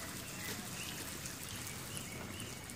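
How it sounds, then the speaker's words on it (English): Irrigation water runs steadily inside a greenhouse, a continuous broadband hiss and patter like spray falling on plants and surfaces, even in level throughout with no voices. "the water runs and we turn it off."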